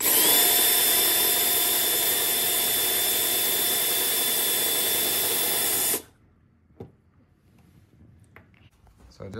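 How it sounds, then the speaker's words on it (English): A power drill bores through plastic, whining steadily at close range for about six seconds, then stops abruptly, leaving faint clicks and handling noises. "And now I'm gonna drill over here."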